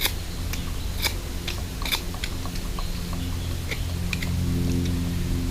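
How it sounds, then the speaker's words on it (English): A knife carving and chamfering a wooden stick in an Australian bushcraft setting, making repeated close, crisp snicks and scraping cuts at an irregular rhythm over a steady low background. "when you're cutting, think of where that knife would go if you were to miss"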